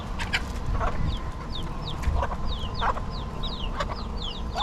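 Roosters and chickens in the Florida Keys cluck steadily and crow, with repeated sharp chirps over a dense outdoor background, fairly close and continuous.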